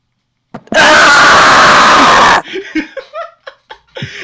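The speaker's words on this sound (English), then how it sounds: "As you hear similar screams coming from Tosley and Cheddar as they go down" During a tabletop role-playing game, a voice performs a loud, sustained scream lasting about two seconds, followed by short bursts of laughter and chuckling.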